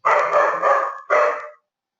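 A pet dog barks close by in a home trading room, letting out a long drawn bark and then a second shorter one, loud and clear with no talking.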